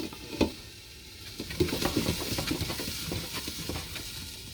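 Sweet potatoes sauté in a covered pan, wok style, with a steady low sizzle and scattered clicks and stirring scrapes, moderately close, with no talking.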